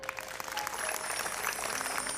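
An audience claps steadily and densely throughout, a sustained round of applause at an annual day cultural function, without voices over it.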